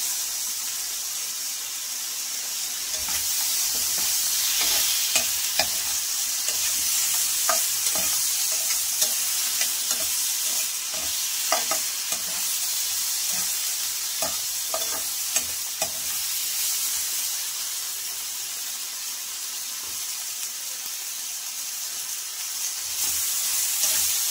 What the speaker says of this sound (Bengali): আলুটা আমি হালকা ভেজে নিয়েছি